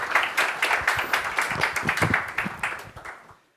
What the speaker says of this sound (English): please join me with an applause for our two panelists